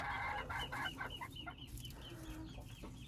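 Small dwarf hens cluck steadily at close range, a rapid run of short clucks and soft calls repeating throughout with farmyard background.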